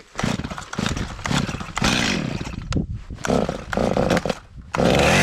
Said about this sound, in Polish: piła po serwisie, pali tak.